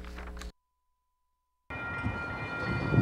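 MBTA commuter train in Boston, a brief rumble that cuts to silence and then returns as a rolling, growing roar of rail cars with a faint tonal horn-like line.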